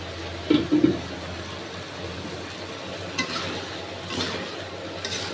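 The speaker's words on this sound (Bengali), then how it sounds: "আলু বেগুন কষানো হয়ে গেছে" Potatoes and eggplant sauté in a pan, giving a steady low sizzle throughout with a few louder scraping stirs near the start and scattered soft clinks later, no voices.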